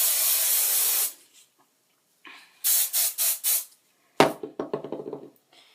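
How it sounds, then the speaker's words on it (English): Hairspray from an aerosol can sprayed onto styled hair, one long close hiss followed by four shorter bursts, then a few faint clicks and knocks. "so hairspray again."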